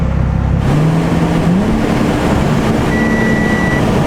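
Audi S4 engine holding a steady rev near 4,000 RPM after a quarter-mile pass with a check engine light on, a loud continuous drone that climbs a step partway through and stays constant throughout.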